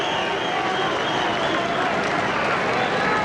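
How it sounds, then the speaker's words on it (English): A boxing crowd applauds and cheers as fighter Angel Hernandez walks around the ring after his bout with Kostya Tszyu. The sound is a dense, steady wash of clapping and crowd noise with no clear breaks. "Hernandez going around, getting a round of applause from the fans"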